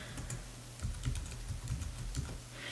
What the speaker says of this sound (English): So I'm going to go ahead and type that in here.